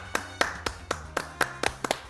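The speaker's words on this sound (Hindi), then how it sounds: "ताली बजा दें" Sharp, evenly spaced hand claps, about eight in two seconds, ring out fairly quietly on a talk show studio set with little background noise.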